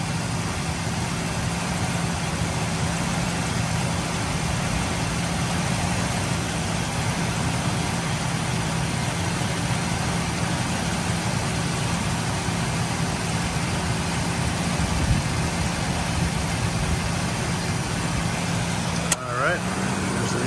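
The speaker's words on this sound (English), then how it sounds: "Just gonna hover right here for a moment so you can listen while it's running at idle." A 2002 Ford Ranger Edge extended cab idles with a steady, even low hum and a brief click near the end.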